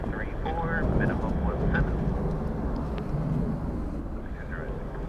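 An ATR turboprop airliner at Dublin Airport on a stormy, windy day gives a steady, distant drone blended with gusting wind noise, while voices talk over it.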